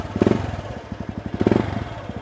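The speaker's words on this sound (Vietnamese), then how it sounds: "Bô nổ rất là hay nha" A Daelim Magma 125cc motorcycle idles through its twin exhaust, a close, low, rhythmic putter with even pulses that swell slightly in two waves.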